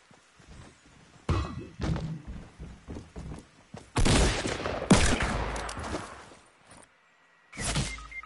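Gunfire in a video game, a series of dull thumps followed by a couple of louder, fuller blasts with a rumbling tail, loud and close with short quiet gaps.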